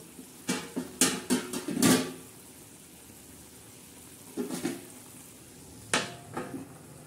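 Brinjal and potato pieces frying on a tawa, with a soft sizzling bed under a run of sharp close clinks and knocks, likely a spatula or lid against the pan, coming in a quick cluster early and then in two later bursts.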